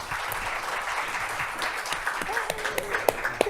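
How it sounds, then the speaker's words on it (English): Audience applause at a poetry reading during a literary festival in 2025: dense, steady clapping from a crowd, with a few sharper individual claps standing out near the end. "We want you to clap until your palms are sore."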